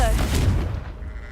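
A Confringo fire-blast spell cast in Hogwarts Legacy, a loud sudden booming burst that decays over about a second, with a brief voice at the very start.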